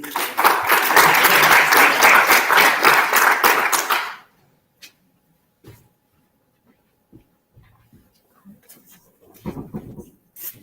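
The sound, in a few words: audience applause for a speaker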